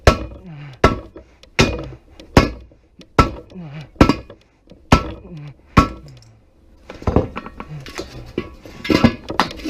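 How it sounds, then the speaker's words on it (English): A hammer hatchet strikes a scrap tire rim while the tire is being demounted, a sharp metallic clang about every three quarters of a second, close and loud, with faster, irregular blows toward the end. "I got this damn hammer hatchet."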